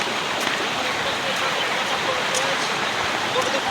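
A large waterfall roars as a constant broad rushing wash, loud and fairly near, with voices talking faintly over it.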